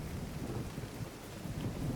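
Steady rain pours in a video game, with low rolling thunder rumbling underneath as a dense, constant wash with no voices.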